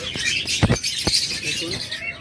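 A pair of cockatiels gives harsh, scratchy squawks in short repeated bursts, close and fairly loud against a busy background of other caged birds chattering.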